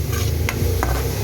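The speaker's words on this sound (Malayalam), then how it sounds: "നമ്മളെ മസാലകളുടെ ഉള്ളി വഴന്ന് വരുന്നുണ്ട്" Onions sautéing with masala in a pan for Kannur-style egg bonda, giving a short, loud stretch of stirring scrapes over a steady sizzle.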